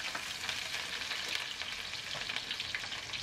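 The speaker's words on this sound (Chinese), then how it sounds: "油热以后加入葱姜蒜进去炒香" Scallion, ginger and garlic stir-fry in hot oil in a wok for double pepper chicken lo mein, a dense, even sizzle crackling steadily and close with no pauses.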